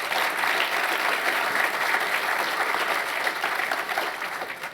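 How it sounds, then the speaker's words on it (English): A crowd at an event with Van Jones at New College applauds Charles Clapsaddle of METV, a dense, even wash of clapping that holds steady and loud for nearly five seconds, easing slightly at the end. "Give Charles a round of applause."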